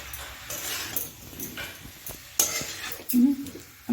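Broccoli and egg stirred and sautéed in a pan, with a spatula scraping and clinking against the metal in irregular bursts over a soft sizzle, close and moderately loud, with no talking.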